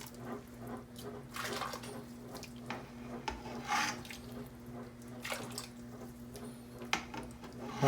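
Chinese soup stock poured from a tilted pot makes a faint, steady liquid trickle and splash, mixed with soft rubbing and scraping of the pot, with no voices.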